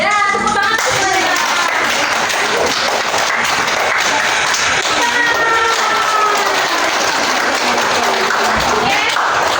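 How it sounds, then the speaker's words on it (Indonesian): A classroom group applauds during a microteaching practice session, steady clapping filling the room throughout with voices and cheering mixed in. "tepuk tangan semuanya"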